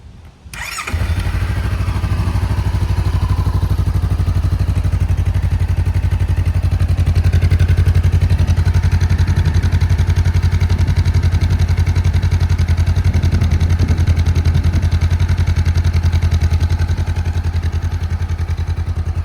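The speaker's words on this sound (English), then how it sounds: "let's see how it sounds with the stock exhaust" A 2017 Honda CB500F motorcycle with its stock exhaust starts and settles into a steady, moderately loud idle with an even low rumble and light mechanical clatter, heard close for the full length.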